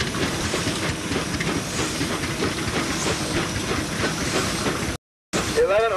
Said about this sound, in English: A steam engine can start any load that it can pull from a dead stop.